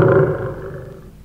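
A single loud, deep lion roar in a children's story about a happy lion, rumbling at full strength and then slowly fading away.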